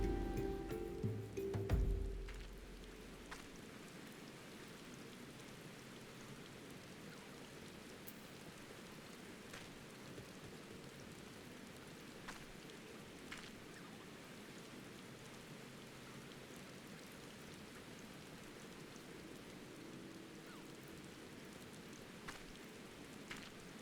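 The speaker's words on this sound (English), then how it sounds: "This rain in game is not helping me wake up." Steady rainfall in Final Fantasy 14, a soft continuous patter with faint scattered drops, low and even throughout after a brief louder thump at the start.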